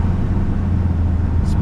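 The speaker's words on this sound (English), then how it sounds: "Love that turbo sound. That sounds wicked." Volkswagen Golf R turbo engine gives a loud, close, steady low drone from inside the moving car, with a brief higher whoosh near the end.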